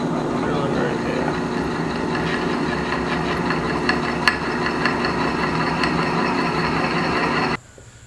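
A power drill runs steadily while boring pilot holes into the steel of a stand for a 132 lb anvil, a continuous close whirring with small bites and clicks before it abruptly stops near the end.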